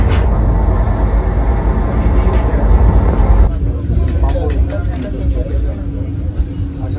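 Riding aboard the Pune-Nagpur Vande Bharat Express train, a loud steady rumble of the carriage in motion that drops to a quieter hum partway through, with faint clicks and rattles.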